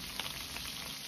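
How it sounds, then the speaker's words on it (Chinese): Yellow croaker pan-frying in oil over medium heat makes a quiet, continuous crackling sizzle with no voices over it. "翻面后再继续保持中火煎至1分钟左右，把两面一定要煎至微黄"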